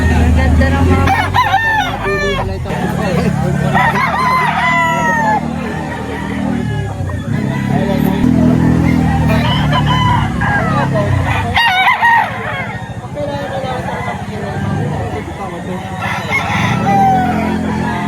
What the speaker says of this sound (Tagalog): Ang ganda ng mga manok.